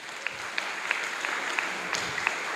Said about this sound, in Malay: Bagi tepukan yang dahsyat.